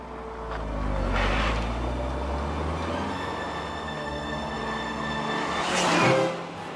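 A Peugeot 106 XSI engine builds and eases in a smooth, fairly quiet drone from inside the car, swelling twice as it accelerates, with road rumble underneath and no talking.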